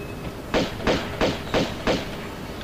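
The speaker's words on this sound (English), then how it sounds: "I can hear gunshots." Five evenly spaced gunshots fire in Tomb Raider II underwater diving level, loud muffled booms about a third of a second apart, with no talk over them.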